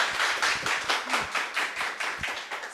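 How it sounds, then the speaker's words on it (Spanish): Studio audience claps in a brisk, rhythmic pattern of distinct strikes, a fairly close, moderately loud burst lasting under three seconds with little talk over it. "A ver, aplaudan."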